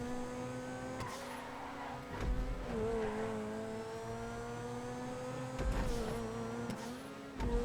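Grotti F1 race cars screaming at full throttle in GTA V at Banham Canyon, a steady high engine whine held flat out with brief dips and shifts, close and loud, no talking.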